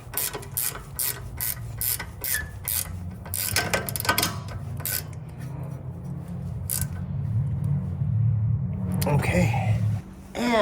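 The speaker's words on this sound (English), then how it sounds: "now we can go ahead and tighten this nut again" Ratcheting wrench clicks and metallic mechanical rattles come from tightening a nut during a lift kit install on a Jeep Wrangler JL, in rapid bursts over a low rumble, with people talking through much of it.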